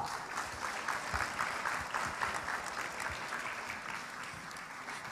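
An audience claps steadily throughout for a teacher at a school fashion runway event, an even wash of applause from a moderately distant crowd.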